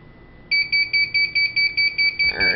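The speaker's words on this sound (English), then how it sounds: "And of course, the alarm's going to go off." A heat press timer alarm sounds as a loud, high electronic beep repeating in about ten quick, even pulses, with a short burst of rustling noise at the very end.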